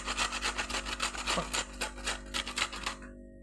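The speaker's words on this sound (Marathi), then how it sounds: "अशा पद्धतीने आपण पूर्ण बीट किसून घेतलेलं आहे" Beetroot rubbed against a grater in quick, even rasping strokes, close and fairly loud, about a dozen rhythmic scrapes before stopping.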